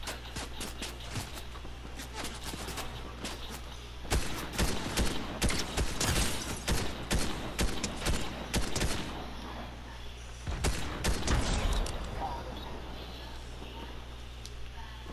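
Gunfire in the Fortnite No Build mode, with dense bursts of rapid shots through most of the clip that are loudest in the middle and near the end, mixed with game noise and occasional voices.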